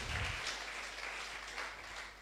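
A church congregation at a French-language Bible study breaks into applause for the Lord, a dense, steady wash of many hands clapping that fills the room and holds without a pause.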